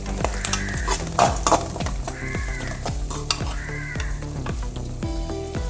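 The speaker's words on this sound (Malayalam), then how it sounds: "രണ്ട് തണ്ട് കറിവേപ്പിലയും കൂടി ഇട്ട് നന്നായിട്ട് വഴറ്റിയെടുക്കാം" Curry leaves and salt are stirred in a hot pan, with a steady sizzle under rhythmic, repeated spatula scrapes against the metal, close and clear, and a faint tonal sound in the background.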